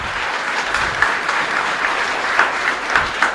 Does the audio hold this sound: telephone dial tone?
no